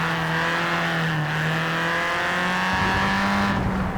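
A race car in the racing game Grid slides sideways with a sustained, loud engine drone and tire squeal, the engine pitch rising and falling slightly throughout, with no talking.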